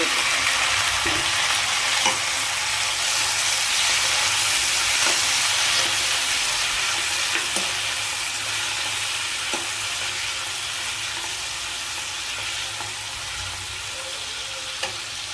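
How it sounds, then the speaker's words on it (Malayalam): Tomatoes, onions and shallots sauté in a pan for fish curry, a loud continuous sizzle and hiss with occasional faint stirring scrapes, close up and steady throughout, no talking. "തക്കാളി വഴറ്റിയിട്ടുണ്ട്, ഉള്ളിയും കൊച്ചുള്ളിയും താഴെ വഴറ്റി കഴിഞ്ഞു."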